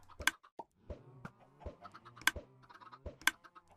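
Chickens hatching from thrown eggs in Minecraft: three short popping bursts spaced about a second apart, over soft clicks and small blips and some low background game tones, with no talk.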